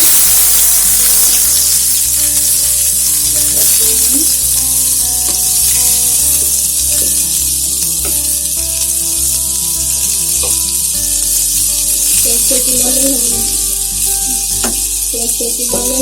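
Sliced onions hit hot oil in a pan for an egg and cauliflower dish, setting off a loud, continuous sizzle and crackle close up, with occasional stirring scrapes and a steady background hum.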